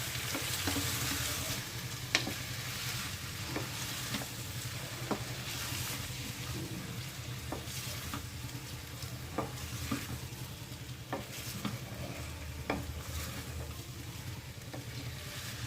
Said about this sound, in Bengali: এবার চিকেনগুলো সব মশলার সাথে ভালোভাবে মিশিয়ে দিচ্ছি।